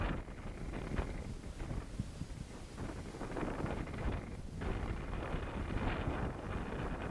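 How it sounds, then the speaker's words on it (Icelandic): Strong wind buffeting a microphone at Sauðlauksdalur lake in Patreksfjörður, a loud, continuous roaring rush with gusts swelling and easing, with no one speaking. "Það er mikill vindur hérna"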